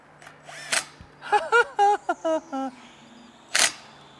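A power drill tightens roof rack bolts on a third-generation Toyota Tacoma in several short whirring bursts with pauses between, interspersed with sharp clicks and knocks.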